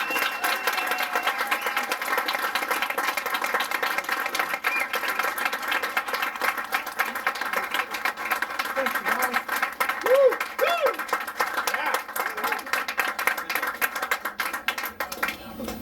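A concert audience gives sustained, dense applause and cheering for a rock band, the clapping filling the whole stretch at a steady level with a few voices calling out.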